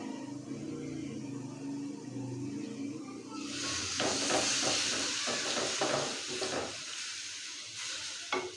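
Milk stirred into a chicken mixture in a hot pan, a quiet start giving way to a loud steady sizzle with repeated scraping stir strokes, close and without talk.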